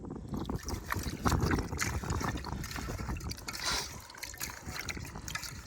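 Water poured to rinse a cooking pot outdoors in a village splashes and trickles steadily in a rough, continuous wash, close by, with faint voices in the background.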